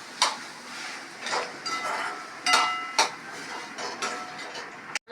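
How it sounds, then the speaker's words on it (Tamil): A spoon clinks and scrapes against a pan while cooked rice is mixed with masala, a series of sharp, close taps at irregular intervals over a quiet background. "இது நல்லா மிக்ஸ் பண்ணணும்"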